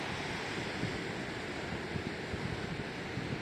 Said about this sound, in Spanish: Eso es el océano.